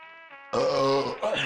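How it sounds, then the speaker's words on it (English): A loud, close belch rumbles out in a single drawn-out burst that ends in a short second gulp, following a brief low hum. "Sorry, that was a nasty burp."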